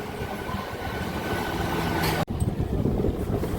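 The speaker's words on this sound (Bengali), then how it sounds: "হাওড়া থেকে সাতচল্লিশ কিলোমিটার পথ অতিক্রম করে আমাদের ট্রেন এসে পৌঁছালো ঘোড়াঘাটা স্টেশনে" A local train pulls into Ghoraghata station on the Howrah line, 47 km out of Howrah, with a steady rumbling rolling noise, a sharp brief clunk partway through, then continued wheel rumble.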